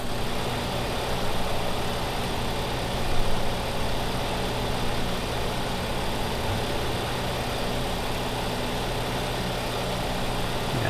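A farm tractor idles in Farming Simulator 2015, a steady low rumbling hum with a constant drone that holds evenly throughout, loud and close with no voices.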